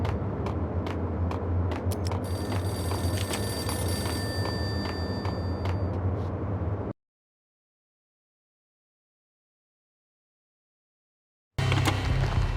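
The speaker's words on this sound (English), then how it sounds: "payphone started to ring" Payphone ringing in the Max Payne video game, a loud repeated electronic ring over a steady low game ambience for about seven seconds, then silence, then the ambience returns briefly.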